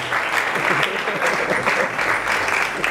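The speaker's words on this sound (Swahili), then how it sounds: "Tupige makofi Pastor Anton." A church congregation claps for Pastor Anton, dense sustained applause from many hands filling the room, steady and fairly loud throughout.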